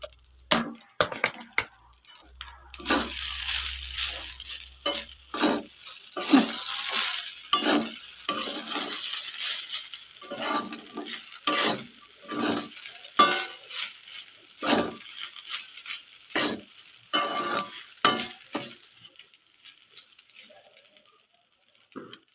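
Leftover rice made into vegetarian fried rice sizzles and frys in a pan while being stirred, with repeated scraping strokes over a steady loud hiss.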